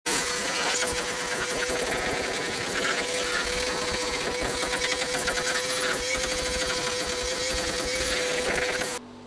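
A vacuum cleaner runs steadily and loudly inside a 25-year-old BMW car interior, a continuous whine with scraping and rattling as debris is sucked up, stopping abruptly at the end.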